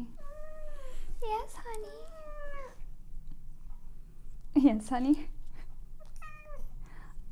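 A kitten meows several times in clear, rising and falling calls, with a louder burst midway and a short final mew, heard close up while someone speaks softly in between.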